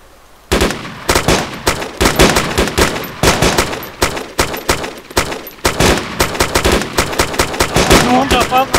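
Rapid bursts of automatic gunfire in the video game Arma 2 DayZ, loud and close, sharp cracks repeating in fast clusters for several seconds with brief gaps, while people talk excitedly alongside.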